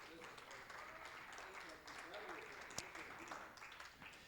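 Applause from a church congregation during a Wednesday Bible teaching, a steady wash of clapping that is fairly faint and distant, with a sharp click near the end.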